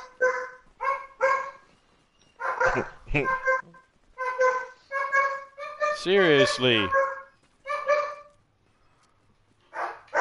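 A dog barks loudly and close by in repeated short bursts, some doubled, with a longer, yelping, whimpering stretch in the middle, while a person talks over it.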